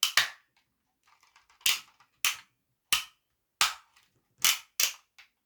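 Sharp plastic clicks of toy transformer aircraft parts snapping together, a string of about eight crisp, close snaps at uneven intervals with near silence between them.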